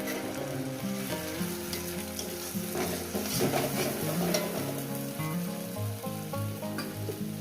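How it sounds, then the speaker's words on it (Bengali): Masala paste stirred and sautéed with fried onions in a pan for a spicy katla fish curry, a steady sizzle with scraping spatula strokes running continuously over background music. "এবার এটাকে সুন্দর করে কষিয়ে দিলাম"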